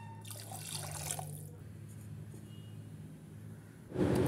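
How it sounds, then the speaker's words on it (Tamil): Water pours into a pan of spiced mixture for a crane bird curry, a short splashing gush that stops abruptly, followed by quiet kitchen hum and a brief clatter at the end. "இப்போ இதில் 2 டம்ளர் தண்ணி சேர்த்துக்கோங்க."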